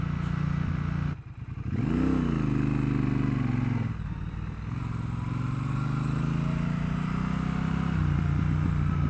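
A Triumph Bobber 1200 motorcycle rides through the city on a bumpy road, its engine rumbling close and loud with a sharp rev early on and a steady throttle afterward.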